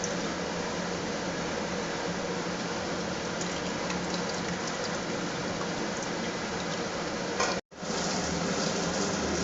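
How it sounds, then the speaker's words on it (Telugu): Tamarind juice heats in a pot, giving a low, continuous bubbling hiss of simmering liquid that runs evenly and faintly, broken once by a brief dropout near the end. "చింతపండు పులుసు ఈ విధంగా కాగుతుందన్నమాట హీట్లో"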